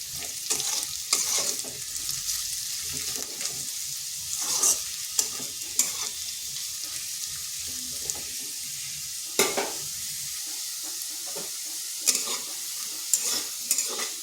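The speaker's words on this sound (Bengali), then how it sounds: "আর আলুটা আমি একটু লাল লাল করে ভেজে নেব।" Potatoes frying in a pan for a Bengali cucumber ghonto, with steady close sizzling and repeated scraping stirs of a spatula, several sharper scrapes standing out, no talking.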